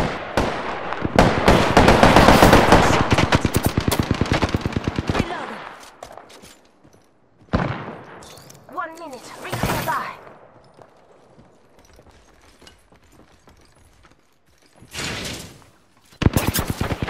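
Gunfire in Apex Legends comes in a dense, loud burst of rapid shots at the start, then scattered sharper shots and bursts with quieter gaps between them, near and punchy.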